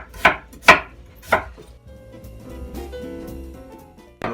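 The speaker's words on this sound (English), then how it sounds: "Slice these about, I don't know, 1/16 of an inch, 1/4 of an inch." A knife slices peeled food very thinly, about 1/16 to 1/4 inch, on a cutting board in a small kitchen; three crisp, close cuts come in quick succession, then quieter rustling and faint clatter follow.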